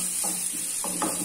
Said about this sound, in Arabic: نشحر البصله مزيان، بعد ما تشحر لي البصله نحط الشومبينيو